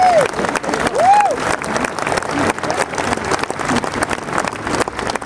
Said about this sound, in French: Applaudissez Christian.